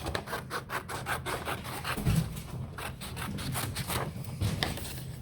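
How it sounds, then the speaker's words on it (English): Scissors cutting paper into strips for a paper pizza craft, a series of close, rhythmic snipping and rustling strokes at a steady pace, quiet and without talk. "I'm just going to start cutting some strips."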